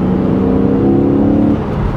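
A BMW E85 Z4 3.0i engine pulling under acceleration while driving, a loud, steady close-up drone with a rising tone from inside the car.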